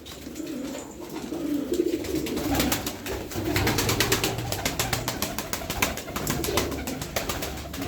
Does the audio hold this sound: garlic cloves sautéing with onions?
no